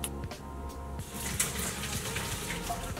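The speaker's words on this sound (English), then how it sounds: "So I'm going to strain them and then we're gonna add them to our marinade." Water pours and gushes steadily as simmered artichokes are drained through a strainer, a continuous close splashing flow with a faint hum underneath.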